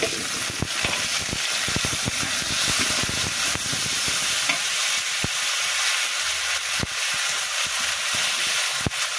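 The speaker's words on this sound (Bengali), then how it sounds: "এবার টমেটো কষিয়ে নেব।" Tomatoes sauté in a pan with fried onion, a steady, dense sizzle and hiss, with the clink of a spoon stirring now and then. No one speaks.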